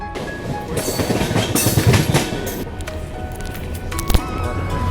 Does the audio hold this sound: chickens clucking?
no